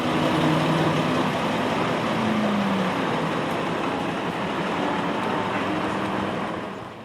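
A 1967 AEC Renown double-decker bus with a Northern Counties body manoeuvring outside the Gaydon Museum, a loud steady diesel engine drone with a rising whine partway through, fairly close, no talk.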